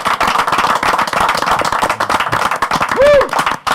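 A crowd at a Tumba carnival event claps in dense, continuous applause. Loud scattered claps carry voices and a brief whoop or cheer mixed in.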